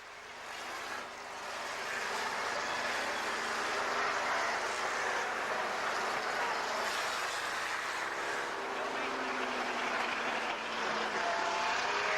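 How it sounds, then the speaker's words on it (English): A pack of unlimited mini banger stock cars at a 1998 Warton Stock Car Club meeting roll around on a rolling lap, making a continuous distant engine rumble and roar that holds steady for twelve seconds. "Unlimited minis as this rolling lap gets underway for the first heat of the bangers."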